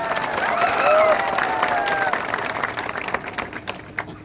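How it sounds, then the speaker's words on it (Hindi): A crowd at a political rally claps and cheers together, a dense swell of applause that thins and fades toward the end. "आप अपने आप को भी थोड़ा सा ताली देकर अपने आप को भी क्रेडिट लीजिए"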